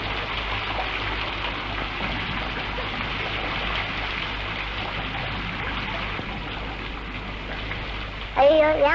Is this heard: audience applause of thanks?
no